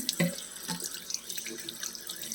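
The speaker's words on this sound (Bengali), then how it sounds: "জলটা অ্যাপ্লাই করছি মুখে" Tap water running into a sink while a face is washed, a steady close hiss of flowing water with small splashes and drips throughout.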